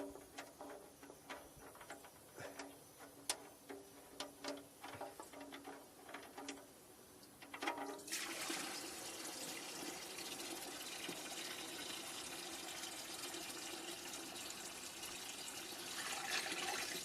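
Engine oil drains from an REO M35 truck through a funnel into a bucket. Faint metallic clicks and ticks come first, then a steady, quiet gushing pour that continues to the end.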